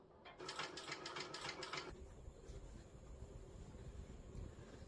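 Sewing machine stitching down the short edges of a tote bag, a fast rapid whirring burst of about a second and a half, then quieter machine noise.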